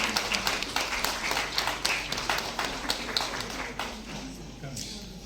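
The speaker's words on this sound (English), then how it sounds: "A warm applause for this remarkable contribution." Audience applause at a ceremony in Meghalaya, many hands clapping in a steady, dense patter that gradually thins and fades toward the end, with a faint voice underneath.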